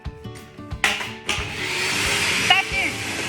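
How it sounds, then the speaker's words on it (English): A vacuum cleaner sucks broken glass shards off a table after tile nipping, a few knocks and clatters leading into a steady loud whine with rattling debris, close by. "Grab your vacuum cleaner."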